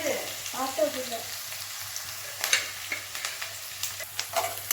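Onions sizzle and fry in a pan while being stirred for tomato thokku, with crackling pops and scraping over a low hiss.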